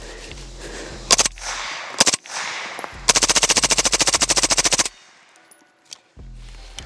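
A suppressed SPC9 firearm fires a rapid burst into a berm, sharp close reports in a fast even string after a few single shots, followed by quieter mechanical clicks.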